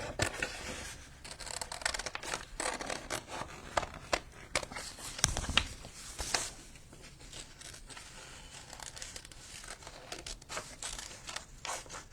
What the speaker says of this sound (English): I'm going to go ahead and cut the whole thing out anyway